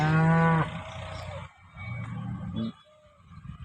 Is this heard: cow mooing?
yes